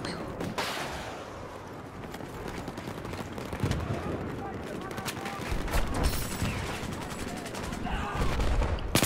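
Gunfire in Battlefield 4 multiplayer, rapid bursts and volleys of shots crackling across the scene at varying distances, with a player talking over the constant firefight.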